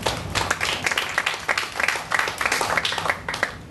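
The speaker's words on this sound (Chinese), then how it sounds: "掌声欢迎他" An audience at a lecture claps to welcome a speaker, giving a short burst of brisk, uneven applause that fills the room, close and loud, without talking.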